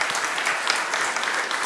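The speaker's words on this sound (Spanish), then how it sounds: "Un aplauso para total." An audience applauds steadily in a hall, a dense, even wash of many hands clapping at moderate loudness with no break.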